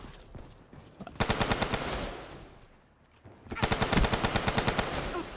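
Video-game gun firing in two long rapid bursts of sharp, evenly spaced shots, loud and close, separated by a brief lull.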